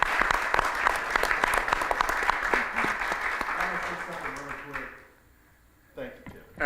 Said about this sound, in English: Let's please give Chuck a round of applause.